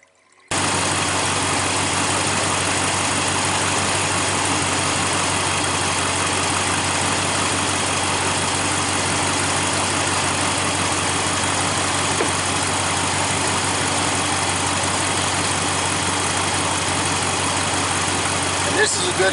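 A 2015 Dodge Ram 1500 with the 5.7L Hemi V8 idles steadily while warming up after a water pump change, a continuous close engine drone that holds even for the whole stretch.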